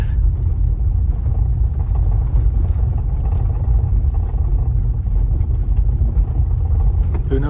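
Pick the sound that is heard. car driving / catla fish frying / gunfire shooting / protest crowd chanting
car driving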